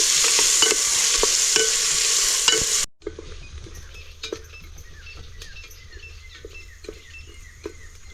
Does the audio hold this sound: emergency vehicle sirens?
no